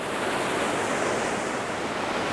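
Steady, broadband rush of flowing river water in Luxembourg, continuous and fairly loud with no break, a touch of wind noise over the microphone and no voices.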